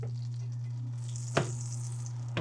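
A chuck steak sears in a pan with a steady, quiet frying sizzle over a constant low hum from a running range hood, broken by a couple of brief sharp clicks.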